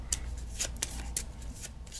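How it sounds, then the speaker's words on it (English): Automa deck cards for a solo Wingspan board game being shuffled by hand, a close quiet riffle with quick crisp snaps repeating at an irregular pace. "You hear that shuffling of the cards? Do you like the shuffling of the Automa cards?"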